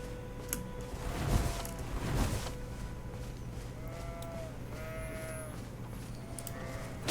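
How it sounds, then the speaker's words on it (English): Sheep bleat in the video game Elden Ring, a few soft calls rising over a low, steady game ambience with no talk. "Oh, sheep."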